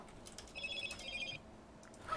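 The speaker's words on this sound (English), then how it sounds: "That's my phone." A phone rings faintly in a short electronic trill burst, distant and low under background noise during an online multiplayer Snowrunner gaming session.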